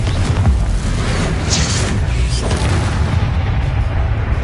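A Confringo blast spell going off in Hogwarts Legacy, a dense booming rumble with brief bright bursts partway through, loud and busy with combat noise throughout.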